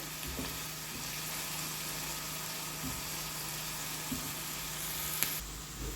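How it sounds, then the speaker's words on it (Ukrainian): Faint, steady sizzle of onions frying in oil, a soft continuous crackle with occasional small pops, no voices. "поки смажиться наша цибулька"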